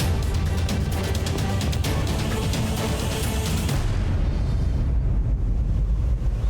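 Firecracker blasts in an animated cartoon, loud dense crackling bursts in a rapid volley that give way to a deep roaring rumble.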